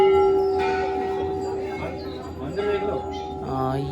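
A temple bell at a hill shrine in Almora, Uttarakhand, rings with a long sustained tone that slowly fades while people talk and chatter nearby.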